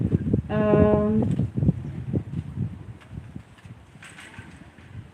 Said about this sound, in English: So I see that place is a bit windy.